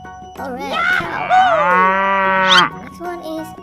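Cow mooing in a 3D animal video game, a single long, loud, close moo that rises and falls over about two seconds, with faint game sounds around it.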